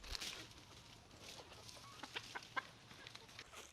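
Free-range chickens on a homestead cluck in short, scattered bursts, several birds fairly close against quiet outdoor background.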